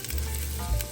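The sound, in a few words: onions and garlic sautéing in pan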